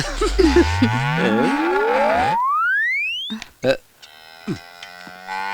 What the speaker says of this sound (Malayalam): ഒരു പശുക്കിടാത്തിയുടെ വികാരഭരിതമായ കരച്ചിൽ പുറത്തു വന്നിരിക്കുക